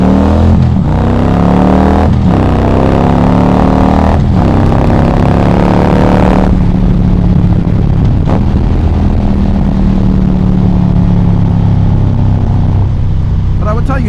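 A Harley Davidson motorcycle fitted with a Mustang seat drones loudly while riding, with a few revving surges early before settling into a steady engine rumble and wind roar.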